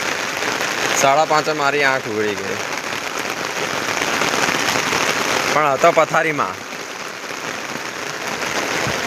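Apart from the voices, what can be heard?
morning rain falling in Anand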